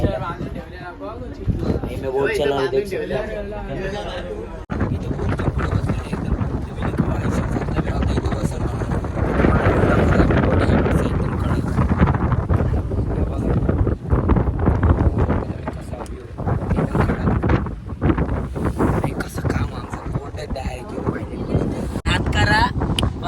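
A boat running out to the Elephanta caves drones steadily beneath gusty wind buffeting, loud and close throughout, with voices talking over it.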